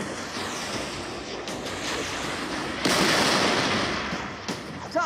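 A bridge blown up in the video game Halo 3: ODST, a loud, rumbling explosion with a sharp rise near the middle, sustained debris roar and a few later bursts, no speech over it.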